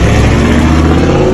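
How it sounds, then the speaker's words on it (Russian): A Cadillac Escalade V8 revs hard right up close with its exhaust valve open, its deep, throaty exhaust rumbling loudly without a break. "Как звучит Cadillac Escalade, например, на заслонке."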